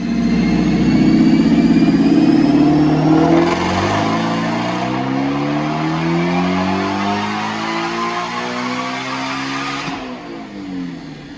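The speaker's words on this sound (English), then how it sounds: "So check out this dyno pull." Whipple-supercharged 2016 Ford Mustang GT350R V8 on a dyno, loud and close, climbing through a sustained full-throttle pull with rising engine pitch, then a sharp shift-like drop near the end as revs fall away.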